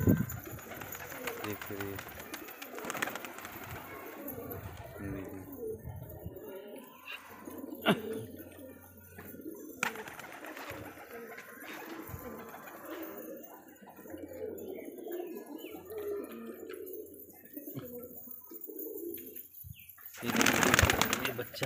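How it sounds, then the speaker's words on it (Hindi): Pigeons coo softly among a flock, then a burst of flapping wings near the end as they take off; someone talks over most of it. "चल रहे हैं कबूतर, और ये देखो इन्हें उड़ाता हूँ, ये उड़ेंगे।"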